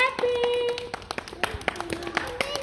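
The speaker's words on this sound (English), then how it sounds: "Now again clapping." Kindergarten class clapping hands together, a series of irregular sharp claps of moderate loudness heard over a child's humming or calling voice in a classroom.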